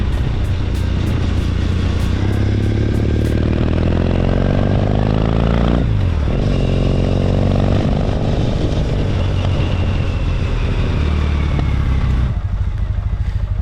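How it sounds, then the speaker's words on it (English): A Triumph Bonneville 865 motorcycle is ridden hard, its engine note rising through the revs with a brief drop at a gear change midway, then climbing again, loud and close with wind noise and no speech. "Straight back on it, felt a little bit alien, but sounded amazing, rode lovely. So let's take a listen now at that."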